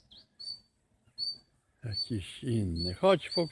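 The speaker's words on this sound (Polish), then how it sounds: "pięknie ptaszek śpiewa." Faint, high, thin bird calls come in short chirps from a distance outdoors, then a voice speaks over them.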